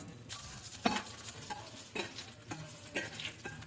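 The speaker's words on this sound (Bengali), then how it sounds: "সর্ষের তেল দিলাম কালো জিরে শুকনো লঙ্কা" Nigella seeds and dried red chillies crackle and sizzle in hot mustard oil, a soft, close frying hiss with small spattering pops and a few light metal stirring clicks.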